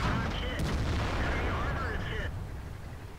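A British tank fires its main gun in a tank battle game, opening with a loud boom that rolls into a long rumbling decay under game noise.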